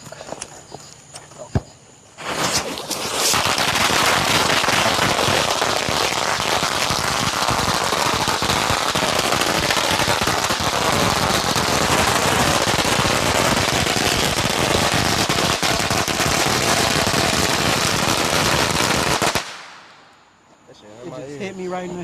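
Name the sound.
fireworks being shot and exploding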